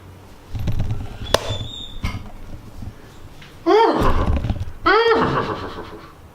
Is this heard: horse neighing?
yes